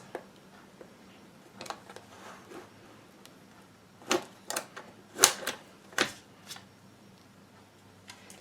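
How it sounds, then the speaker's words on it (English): The clasp of a springform cake pan is loosened with a string of sharp, close metallic clicks and ticks, spaced irregularly against near silence. "this is spring form, so I'm just going to loosen this"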